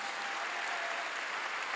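A church congregation applauding together makes a dense, steady wash of clapping through the short stretch, with no breaks or voices on top.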